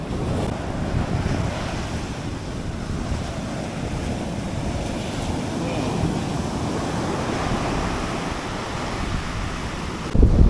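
Ocean waves breaking on Marina Beach in Chennai, a continuous roar of surf mixed with heavy wind buffeting the microphone, steady and loud for the full length.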